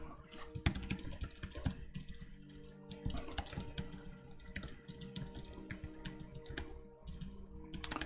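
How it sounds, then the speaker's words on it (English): Rapid typing on a computer keyboard clatters continuously and close, with dense irregular key clicks and a faint steady hum underneath, no talking. "Typing something."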